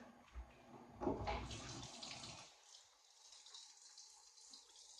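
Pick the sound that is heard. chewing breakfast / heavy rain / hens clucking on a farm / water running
water running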